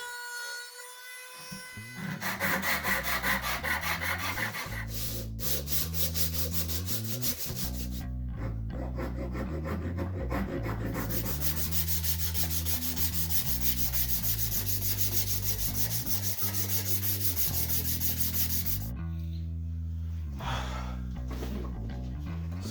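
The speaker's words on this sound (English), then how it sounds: "So for now, I am going to use my Dremel." A Dremel rotary tool sands the wooden handle of a gavel, giving a loud, continuous high whine and abrasive rub that wavers in pitch as pressure changes, with short pauses and no talking.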